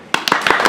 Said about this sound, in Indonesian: Tolong tepuk tangannya.